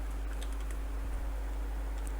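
Soft key clicks patter irregularly on a computer keyboard as a command is typed, faint and close over a steady low electrical hum.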